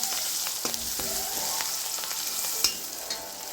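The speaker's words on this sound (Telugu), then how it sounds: "పసుపు వేసిన తర్వాత కాకరకాయ ముక్కలు కూడా చేసుకుంటున్నాను" Bitter gourd pieces and turmeric sizzle in a hot steel pan while being stirred, giving a steady bright frying hiss broken by a few light scraping ticks, close and uninterrupted.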